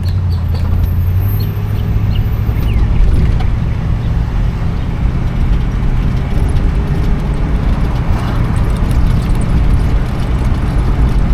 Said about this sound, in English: This one with the 350 sounds a little bit like maybe some exhaust work might have been done